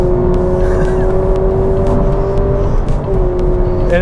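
A Honda Civic e:HEV hybrid accelerates hard down a pit lane, its engine and electric drive rising in a steady, loud whirring drone with a sustained tone that climbs and dips as if shifting, heard up close with no talking.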